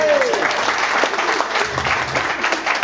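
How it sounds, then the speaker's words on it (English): Audience applause at a charity night featuring an Elvis tribute act, steady clapping from a modest crowd that carries on for a few seconds, with a voice briefly audible at the start. "give a round of applause to Brian"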